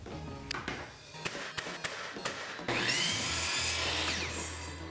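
Saw cutting during a bathroom renovation: several sharp, irregular knocks and taps, then a loud continuous rasping cut that runs to the end, close and alone.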